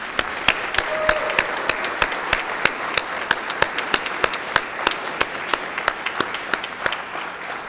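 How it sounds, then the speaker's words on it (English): Sustained applause for honorees fills the Hawaii House of Representatives chamber, many hands clapping with distinct sharp claps standing out over a steady wash of sound, with no talking. "Let's give them a well-deserved round of applause."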